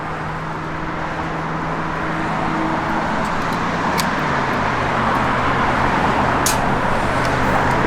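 A 1970 Plymouth Barracuda engine hums steadily with road noise, a constant low drone that grows slightly louder over time.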